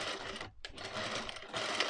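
Sewing machine stitching boning onto a corset, a close, steady mechanical whir with a brief pause midway before the rapid stitching resumes.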